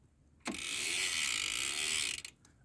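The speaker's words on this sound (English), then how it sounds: "Very, very noisy freewheel." Pinion rear hub freewheel on a Stevens P18 belt-drive bike buzzing in a fast, even ratchet for about two seconds, close and fairly loud, cutting off abruptly.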